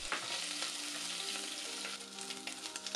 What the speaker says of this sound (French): Bien faire dorer les carapaces de crevettes.